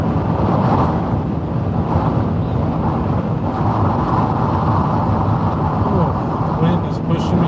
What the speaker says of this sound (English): The wind has definitely picked up again.